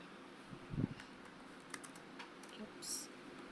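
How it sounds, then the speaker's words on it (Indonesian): Someone types a terminal command on a computer keyboard in Ubuntu Linux, giving a short run of soft, close key taps over a steady background hiss, with one louder clack early on. "Selanjutnya untuk melihat perintah mana yang berjalan di terminal saat ini, ketikkan perintah berikut."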